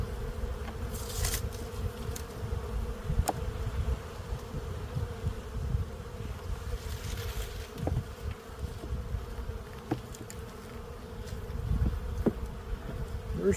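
A steady, dense hum of many honey bees at an opened spring hive, sustained and close, with occasional louder bees zipping past over the continuous drone.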